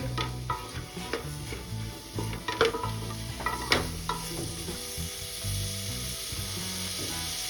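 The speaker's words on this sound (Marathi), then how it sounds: "आता आपल्याला हे सर्व साहित्य मिक्स करून घ्यायचं आहे" Vegetables with spices are stirred in a hot pan for pav bhaji, a continuous close sizzle broken by repeated scraping strokes and sharp spoon knocks against the pan, with no one talking.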